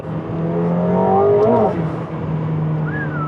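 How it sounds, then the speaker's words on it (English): A McLaren 750S engine revs up hard and climbs in pitch, then eases off, with a brief high squeal of wheel spin on cold tires near the end. "Still got a bit of wheel spin. Tires are still cold."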